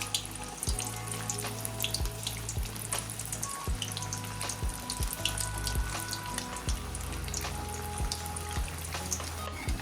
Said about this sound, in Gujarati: બીજા વડા આ રીતે તળી લઈએ.